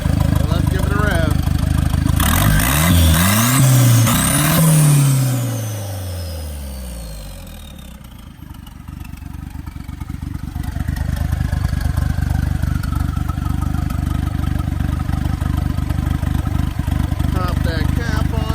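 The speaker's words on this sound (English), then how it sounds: "Let's give it a rev." A freshly tuned car engine revs up and falls back in a rising-and-falling sweep, then settles into a steady, loud idle that carries on to the end.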